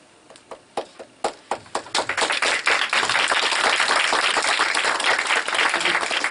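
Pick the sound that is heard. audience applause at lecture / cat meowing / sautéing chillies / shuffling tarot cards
audience applause at lecture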